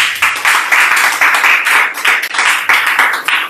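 A church congregation claps and applauds during a sermon, producing dense, loud, continuous rhythmic clapping in steady bursts throughout.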